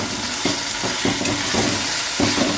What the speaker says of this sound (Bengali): এবার মশলাটা ভালো করে ভেজে নিতে হবে